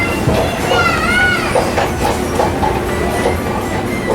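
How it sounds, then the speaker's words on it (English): A Disneyland parking lot tram rolls past nearby, a loud continuous rumble with wheel clatter and faint squeals riding on top throughout. "Good to see a tram in that spot."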